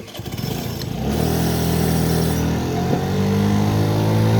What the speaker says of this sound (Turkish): Motosiklet güzel çalışıyor. Biraz sesi fazla. 50 cc'ye göre bayağı bağırıyor.